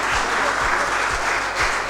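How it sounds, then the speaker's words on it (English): Students applaud steadily at a skill development and career training camp, a dense, continuous wash of clapping with low thumps recurring through it. "Students, please keep clapping."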